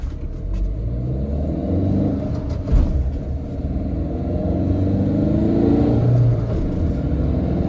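A Tata Nexon in sports mode accelerates from a standstill with a steady low engine rumble and road noise inside the cabin, the drone rising gradually with one brief bump partway through.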